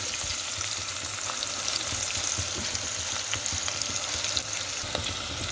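Oil frying in a pan for a moong dal and bottle gourd curry, a dense continuous sizzle with faint stirring clicks, close and steady with no talking.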